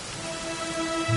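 Steady rain falls in the video game Dragon Quest XI, an even continuous patter with a faint tonal hum and a low rumble rising at the end, no voices.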